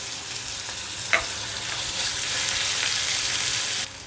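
Chopped tomato and ginger-garlic paste fry in a pan with cumin seeds, giving a steady, fairly loud sizzle that swells slightly and holds, with one sharp tap early on and no talking.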